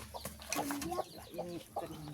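Chickens cluck and squawk close by as they are being caught, with irregular agitated calls and some faint background voices.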